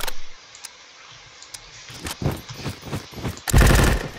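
Gunfire from a weapon in a Roblox shooting game, a few scattered rapid bursts building to one loud sustained volley at the end, with no talk over it.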